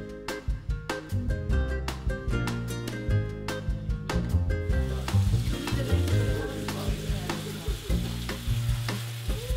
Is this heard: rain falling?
no